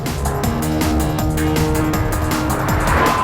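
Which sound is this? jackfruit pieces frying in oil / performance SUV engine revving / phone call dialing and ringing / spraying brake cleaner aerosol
performance SUV engine revving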